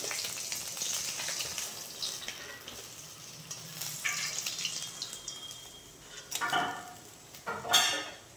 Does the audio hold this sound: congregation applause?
no